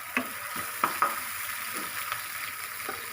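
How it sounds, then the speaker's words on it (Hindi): Sliced onion fries in hot oil for a chicken-stuffed karela dish, a continuous close sizzle with periodic scraping stirs of a spoon against the pan. "एक प्याज इसमें डाल दिया"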